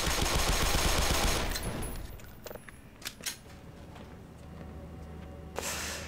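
Gunfire in the Half-Life remake Black Mesa as the player shoots open a crate: a dense burst of loud shots at the start, then a few scattered sharp cracks and impacts in the game's ambience.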